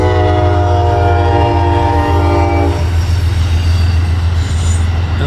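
An Amtrak train passes Hudson, NY station without stopping, its horn blaring loudly for a few seconds before cutting off, leaving the heavy rumble and rattle of wheels rolling by close and loud.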